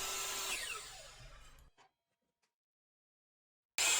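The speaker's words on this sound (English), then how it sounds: "Then I just cut it right on that line using my miter saw." A miter saw cuts through wood, giving a short burst of whining blade noise that winds down into silence, followed by a sudden loud noise at the very end.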